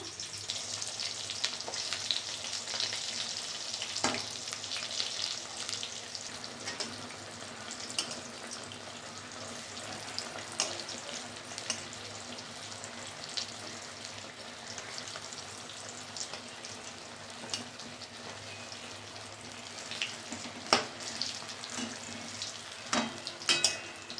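Slices of pointed gourd (potol) fry in hot oil in a home kitchen, a continuous soft sizzle with occasional sharper crackles and clicks of stirring, fairly quiet and steady, with no talking.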